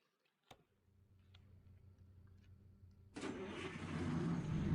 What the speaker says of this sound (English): we probably need that engine running to.